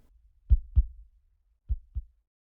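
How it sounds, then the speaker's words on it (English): A heartbeat sound effect heard alone in silence, two pairs of deep, thudding lub-dub beats separated by a long pause, slowing toward stillness. "the heartbeat begins to weaken until all is silent"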